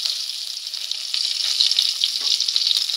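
Curry leaves and butter chillies frying in hot oil, a bright, even crackling sizzle that holds steady for a few seconds, close up with no talking.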